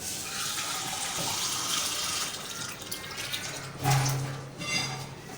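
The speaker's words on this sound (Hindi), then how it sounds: "हमारे चिकन ने गलना होता है इसलिए हमने 3 गिलास पानी डालने होते हैं।" Water poured from glasses into a pot of chicken biryani as it cooks, a continuous rushing splash that thins out, then a brief louder gurgle and sizzle near the end, close and with no voices.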